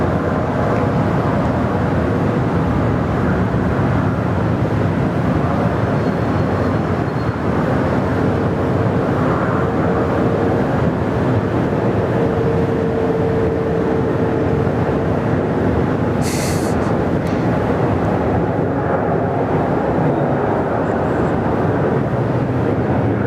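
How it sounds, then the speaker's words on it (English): Air India Boeing 787 on a long takeoff roll at Sydney Airport, a steady broad jet roar holding loud throughout with wind buffeting the microphone, heard from the spotting area without speech. "The Air India 787, they love a long takeoff roll."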